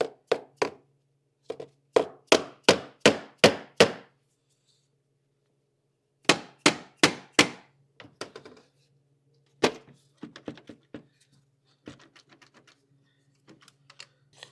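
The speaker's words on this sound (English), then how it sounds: "I'm going to be gentle, but I've got a dead blow hammer here." A dead blow hammer taps repeatedly on the valve cover of a 2013-2015 BMW 335i N55, sharp close knocks in quick bursts of four to six strikes separated by pauses, with lighter scattered taps later.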